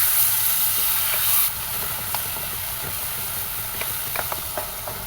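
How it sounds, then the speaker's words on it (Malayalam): Nendran banana and jackfruit, being cooked for a Malabar paal vazhakka dessert, are stirred in a hot pan, giving a steady close sizzle and hiss with occasional faint scraping clicks from the spoon. "നന്നായിട്ട് മിക്സ് ചെയ്ത് കൊടുക്കുക."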